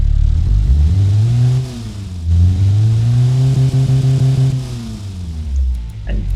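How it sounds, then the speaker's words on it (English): A bored-out Ford Transit 2.0L engine in the Automation car-building game revs loudly and continuously. The pitch sweeps up and down in several surges, and a faint voice is heard near the end. "the engine will sound much better now"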